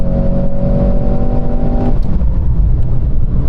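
A Mercedes-AMG C63 S E Performance accelerates hard on a quarter-mile run, a loud continuous engine drone with a steady whine heard from inside the car, then the tone drops and shifts midway as the car changes pace.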